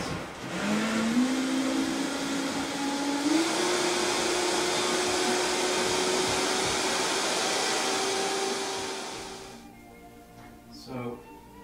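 A high-powered blender whirs loudly on low speed, mixing superfood vegan ingredients. The motor pitch climbs slightly, holds steady for about nine seconds, then winds down, leaving a quiet room with a faint voice.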